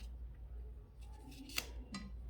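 Scissors snip through paper while cutting out shapes, two or three crisp, quiet cuts close by against a low steady background hum.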